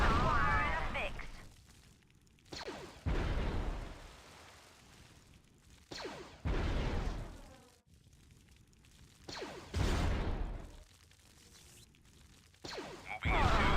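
Blaster cannon fire and explosions from a Star Wars video game, arriving as several loud bursts every few seconds, each decaying into a rumble, with game voices talking in between.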